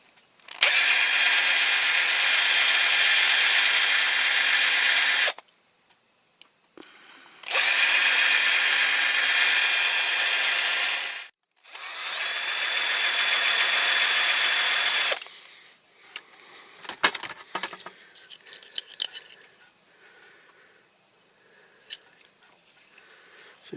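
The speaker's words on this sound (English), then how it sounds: "I'll drill that out" A small power drill bores out a rivet on a Matchbox King Size K8 Guy Warrior car transporter model in three loud, whining bursts, followed by quieter clicks and handling noises.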